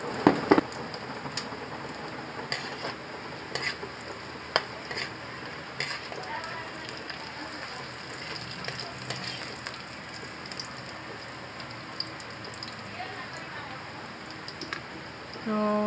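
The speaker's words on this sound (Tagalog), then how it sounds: "ngayong mainit itong mantika, ilalagay ko na itong ating bawang" Garlic fries in hot cooking oil with a steady, dense sizzle and crackle, close and continuous throughout, punctuated by occasional sharp pops and light stirring clicks.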